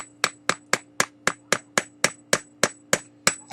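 About a dozen sharp hammer strikes land in an even, quick rhythm, each a hard knock as holes are hammered into a coconut, close by with no voices.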